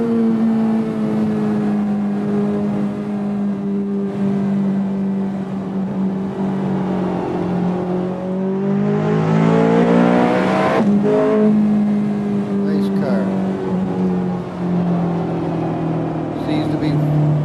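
A racing car engine in a driving video game hums steadily, then revs up sharply and falls back before settling into a sustained drone, with someone talking over it.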